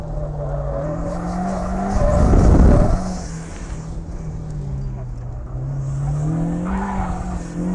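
Turbocharged Mazda Miata pushed hard at the limit on a track, its engine droning steadily with a louder surge of tire and motor noise midway, then settling back into a sustained hum.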